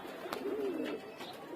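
A rooftop pigeon gives a single soft, low coo lasting under a second, faint and distant against quiet background hiss.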